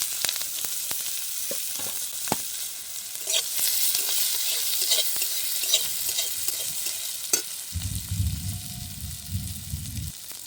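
Dried red chillies, whole cumin, onion and spices fry in oil as a utensil stirs and scrapes the pan in irregular strokes over a constant sizzle, close up, with a low hum near the end.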